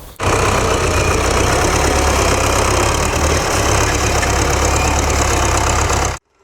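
A tractor engine runs loud and steady during timber harvesting in a forest, a continuous close rumble with no breaks and no voices.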